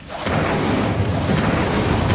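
An Incendio fire spell ignites in a video game with a sudden low roaring whoosh that holds steady and full as a continuous burning rumble.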